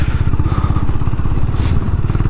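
A Honda Highness CB350 motorcycle engine thumps steadily while the bike is ridden. Its low, rapid, even pulses are close and loud, with wind rush over the top and no talking.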